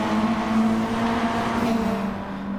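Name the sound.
race cars driving in video game Gran Turismo Sport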